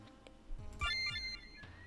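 A phone ringtone plays a few short electronic tonal notes, moderately faint, with no talking over it.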